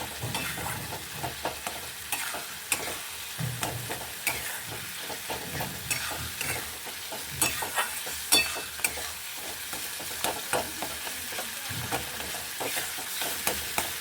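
Soybean kofta curry gravy stirred and fried in a pan, a steady close sizzle broken by repeated scraping spoon strokes throughout, with no talking.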